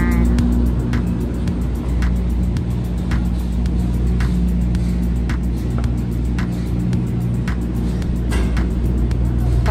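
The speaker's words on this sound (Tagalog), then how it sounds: "Parating na yung cable car natin." Cable car arriving at its station on an amusement ride, a loud steady mechanical rumble and hum with periodic faint clicks repeating roughly every second as it approaches.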